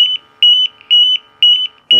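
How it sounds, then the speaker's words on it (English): A portable gas detector sounds a low-oxygen alarm near a propane torpedo heater running indoors, giving loud shrill electronic beeps in repeating bursts of three to four rapid tones, with short pauses between bursts. "so we're at a low alarm"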